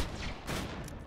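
The Unkempt Harold gun in Borderlands 2 fires a loud, dense burst of pellets that cracks and booms over about a second.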